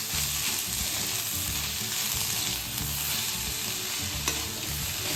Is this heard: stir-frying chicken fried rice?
yes